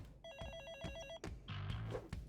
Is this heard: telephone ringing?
yes